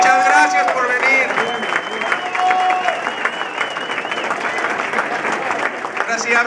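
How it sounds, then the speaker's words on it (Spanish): Applause for costumed children at a Halloween award ceremony, with clapping and crowd noise mixed under excited voices and children's shouts throughout. "Un aplauso a todos los niños"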